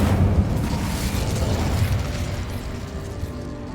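An Incendio fire spell in Hogwarts Legacy produces a sustained, loud roaring burst with crackling, rattling texture that holds steady for several seconds.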